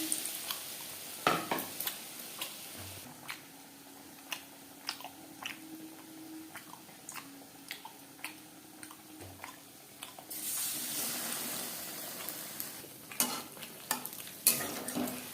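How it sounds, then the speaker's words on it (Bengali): Bread pakora dipped in batter is fried in refined oil, giving a steady sizzle with sharp clicks and scrapes from a utensil nearby, and the frying hiss grows brighter and louder toward the end. "এইভাবে ব্যাটারে ডুবিয়ে নেব ভাজবার জন্য বেশ খানিকটা রিফাইন্ড অয়েল গরম করে নিয়েছি"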